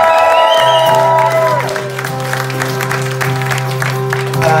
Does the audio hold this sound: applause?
yes